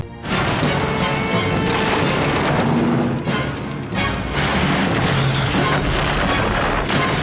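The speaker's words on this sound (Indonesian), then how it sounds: "pasukan Rokossovski segera menembakkan artileri menggempur tank-tank Jerman" Heavy artillery fire in a World War II film battle near Moscow, with Soviet guns firing on German tanks: loud, dense booms and blasts crowd one another, with brief dips between salvos and no speech.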